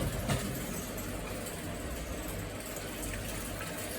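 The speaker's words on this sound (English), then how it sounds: "Jonas, do you want to pour water in the bowl?" Water poured steadily into a bowl in a home kitchen while making gazpacho, a continuous close splashing gush lasting the full few seconds with no talk.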